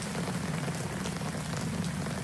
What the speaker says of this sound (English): the soft pattering of rain on Fang's skin while she and Spear have a standoff